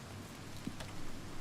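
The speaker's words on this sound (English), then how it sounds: "hope that the rain sound goes away because I'm inside" Rain in the video game Oblivion Remastered gives a soft, steady patter and hiss with one faint tap partway through, quiet and with no voices.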